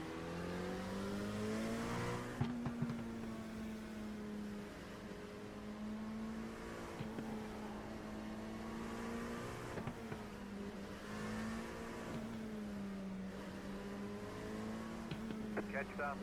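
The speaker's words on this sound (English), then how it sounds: "Well, away go the hypercars." Hypercar race cars accelerate away at the start of a race, a droning multi-engine roar with rising and falling engine pitch, heard faintly and at a distance with a voice talking over it.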